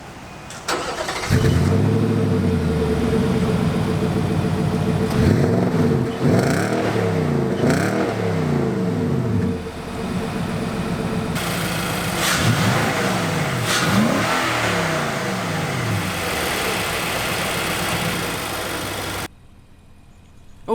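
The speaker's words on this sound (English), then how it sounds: "let's start up the engine so that you can give that a listen" A 2017 Nissan Titan's naturally aspirated 5.6-liter V8 cranks and starts, settles into idle, then is revved repeatedly in rising and falling bursts, close and loud, before cutting off abruptly near the end.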